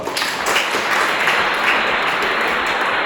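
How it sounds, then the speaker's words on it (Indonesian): A class of schoolchildren claps together in a classroom, a dense, steady burst of applause lasting throughout with no break. "Tepuk tangan dulu"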